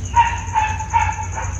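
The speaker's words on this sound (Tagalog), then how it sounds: "Ang ingay ng aso." A dog barks in a quick run of about four short yelps at close range, each bark sharp and evenly spaced, over a low steady background hum.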